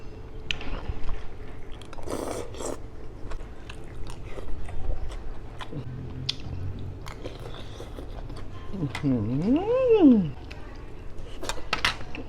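Crunchy, buttery sugared snack being bitten and chewed close to the mic, with crisp crunches and wet mastication sounds in irregular bursts, plus a faint warbling background tone.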